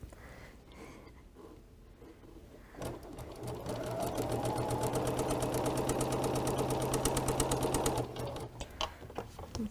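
A sewing machine stitches a half square triangle quilt block, a fast steady mechanical chatter that starts after a few seconds of quiet handling and runs close and even for about five seconds before stopping, with no speech.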